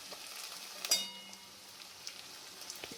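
Tomatoes dropped into onions already frying in a pan for a Bengali chicken kasha, a brief splash followed by a steady, quiet sizzle with scattered small pops.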